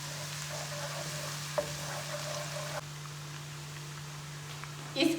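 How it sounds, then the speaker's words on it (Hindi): Finely chopped garlic sautéing in hot oil for a dal mash recipe: a steady, soft sizzle with a constant low hum, faint and even throughout, with a brief clatter near the end. "हल्का सा इसको मैं सौते करूंगी।"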